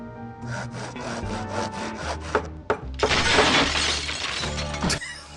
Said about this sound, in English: Why is she sawing and hammering?